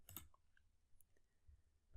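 A computer mouse gives a few faint, isolated clicks in a quiet room, the loudest near the start and a louder thump at the very end.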